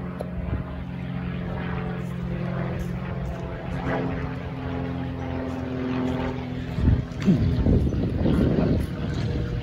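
Propeller aircraft, a biplane, droning overhead in rural Leicestershire, a steady buzzing engine note heard outdoors with wind noise against the microphone and a brief rustle near the end.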